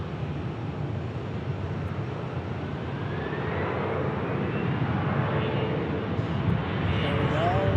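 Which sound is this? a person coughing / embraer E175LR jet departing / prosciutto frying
embraer E175LR jet departing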